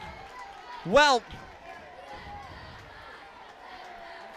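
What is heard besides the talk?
loud football crowd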